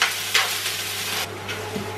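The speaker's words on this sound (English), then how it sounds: "Frying up peppers and broccoli" Peppers, broccoli and ginger fry in a pan with a steady, close sizzle, broken by soft scraping swells from stirring.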